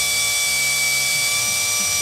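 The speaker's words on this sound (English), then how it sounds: "you want a variable speed drill so that you can drill very slowly" Variable speed drill with a 1/16 bit boring slowly through a corky fishing float: a steady, close, high-pitched whine with slight changes in speed and no talking.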